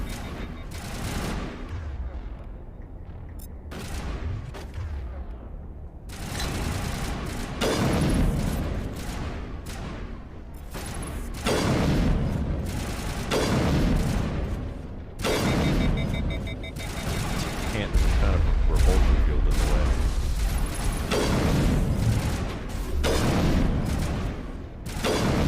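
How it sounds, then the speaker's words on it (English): Rocket explosions and bursts of gunfire from a Mass Effect firefight on Insanity difficulty: repeated loud booms and rapid shots come in waves over a sustained, dense battle din, with alien enemies including a Krogan. "Hey, that's a rocket."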